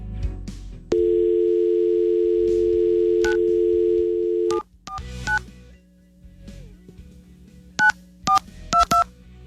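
Telephone dial tone holds steady for several seconds, then a rapid sequence of touch-tone dialing beeps follows with short gaps, placed on a call to a pizza place in Dover.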